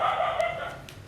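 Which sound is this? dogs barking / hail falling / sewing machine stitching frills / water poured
dogs barking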